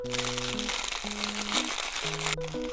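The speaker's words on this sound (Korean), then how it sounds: "지금 이렇게 개별 포장이 돼 있으니까 이 그대로 부숴서 요거트에 넣어주겠습니다." Individually packaged nurungji (scorched rice) crushed inside its wrapper for topping yogurt, a soft continuous crinkling crunch heard close up over gentle background music.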